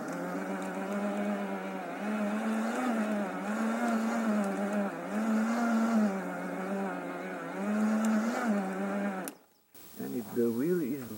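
Parkside PEBH 1500 1500-watt electric tiller with 40 cm tines working garden soil; a steady loud motor whine with rhythmic load swells as it pulls forward, then a sudden cutout followed by a short burst of speech.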